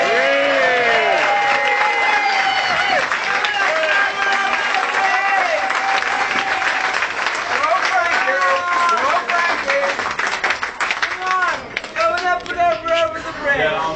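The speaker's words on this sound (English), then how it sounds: "I'd like you all to give him a big round of applause for him" A crowd applauds steadily for several seconds, the clapping loud and close, with voices and cheering mixed into the dense wash.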